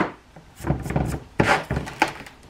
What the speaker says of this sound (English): take our outer shell and push up and down with it to release any of the bath bomb mixture that got stuck inside